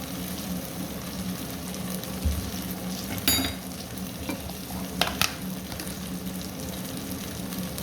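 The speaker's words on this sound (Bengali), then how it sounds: "আদা রসুন পাতা তাকে ভালো করে ভেজে নেব" Duck meat frying in a pan with ginger, garlic and salt gives a steady close sizzle, with a few sharp stirring clinks and scrapes. No one speaks.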